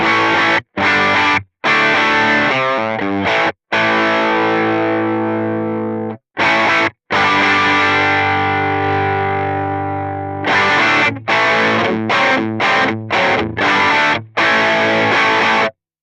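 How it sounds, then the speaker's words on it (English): Electric guitar played through a warm Klon Centaur-style overdrive pedal, chords and sustained notes with short pauses between strums, loud and close, no voices. "One of my favorite drives in here is this Minotaur drive"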